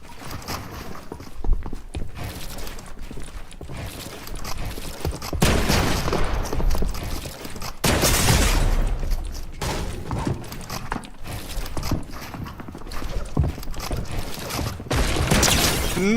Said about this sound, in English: Missed my second shot. Missed my third shot. Missed my fourth shot.